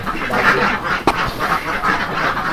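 Meat ducks on a duck farm in Sukabumi, a flock quacking in a continuous, close, overlapping chorus with one sharp louder call near the middle.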